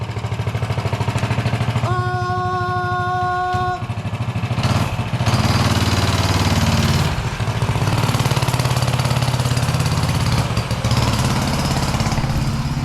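Coleman CT100U mini bike engine with new exhaust and intake parts, starting and running steadily and loudly close by, a steady buzzing drone throughout.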